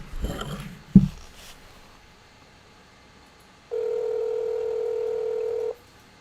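A telephone dials out on a speakerphone call, with a couple of faint clicks and then a single steady electronic tone held for about two seconds before it cuts off. The sound is clear and close, with no voices.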